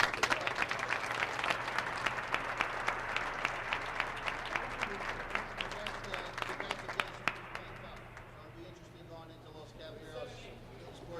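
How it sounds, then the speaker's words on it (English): Applause from the audience at the 2002 North Carolina racquetball pro finals rolls on as steady, fairly distant clapping, with a voice talking over it, before thinning out and fading near the end. "let's give him a round of applause"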